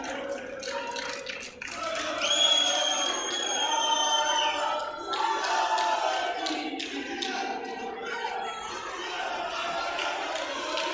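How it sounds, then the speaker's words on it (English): Cheering crowd in an arena at a blind judo European championship match after a gold-medal win, a sustained wash of voices and shouts with whistles, moderately loud and continuous, with scattered calls rising above it. "So a lot of cheering from the side."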